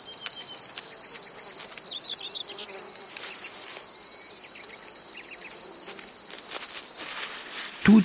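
Crickets chirp in a meadow, a steady high-pitched trill with rapid pulsing repeats, fairly near and moderately soft, over faint rustling background.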